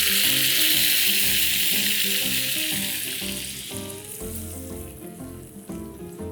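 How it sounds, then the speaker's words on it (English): Afghani curry paste hits hot oil already holding cinnamon stick and bay leaves, setting off a loud, steady sizzle that eases slightly over several seconds, with faint stirring underneath. "Swirl the oil and add in the Afghani curry paste."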